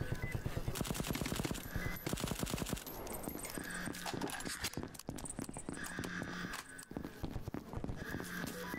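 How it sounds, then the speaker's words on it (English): Gunfire in the video game VLADiK BRUTAL in quick repeated bursts, fairly faint, with rapid shots rattling one after another. "I hear a gunshot."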